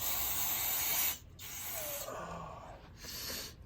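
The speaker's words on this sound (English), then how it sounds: "I'm going to spray" Brake cleaner aerosol spray hissing in bursts while cleaning a Honda Helix scooter's rear clutch: a long steady blast, a brief pause, then two shorter sprays, close up with no talking.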